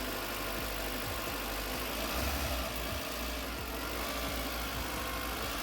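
A car engine idles steadily after a coolant repair for an overheating problem, a continuous low rumble holding an even pitch throughout with no voices.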